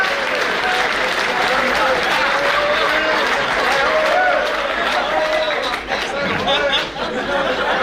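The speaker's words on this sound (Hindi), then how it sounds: "जरा जोरदार तालियां हो जाए उनसे भी" An audience at a civic event applauds loudly and continuously, a dense clapping wash layered with a voice speaking over it.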